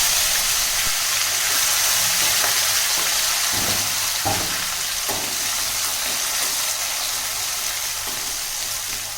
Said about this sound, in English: Saute it on a low flame until it is cooked.